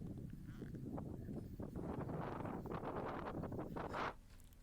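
Strong gusting wind during fires in Amroha and Hapur, heard as a steady, loud, roaring buffet against the microphone that eases off abruptly near the end, with no speech.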